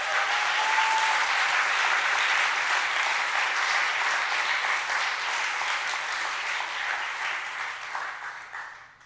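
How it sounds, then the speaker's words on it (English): A large audience applauds the organization team at a hackathon closing ceremony, dense continuous clapping holding steady before fading out at the end, no voices. "a big round of applause to the whole HackZurich organization team"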